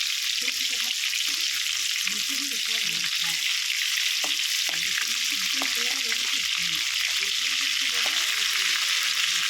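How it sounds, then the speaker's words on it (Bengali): Crabs fry hard in hot oil in a pan, a steady loud sizzle running throughout, with scraping and clacking thumps as they are stirred and flipped over. "এগুলো লাল লাল করে ভাজতে হবে"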